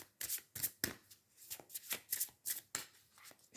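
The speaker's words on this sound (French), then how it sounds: "Je vais tirer une carte du cheminement de l'âme." A deck of cards is shuffled by hand in a quiet room, giving a run of crisp, riffling bursts and flicks at an uneven rhythm, close and fairly soft.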